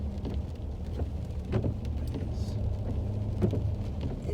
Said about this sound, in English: It's rainy, y'all.